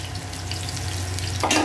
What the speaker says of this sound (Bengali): এখন আমি মাছটাকে ভাজতে দিচ্ছি